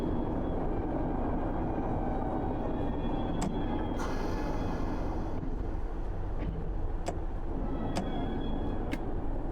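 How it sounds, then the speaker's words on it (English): Rumbling run of a train through a train wash in the Train Sim World 6 Riviera Line simulator, a steady broadband roar throughout with a few sharp ticking clicks and a brief hiss burst partway through. "Because we're going through the train wash."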